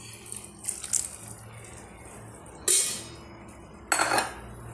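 Water splashes into a metal pot of crab curry in two short pours, separated by quiet moments with faint kitchen clinks.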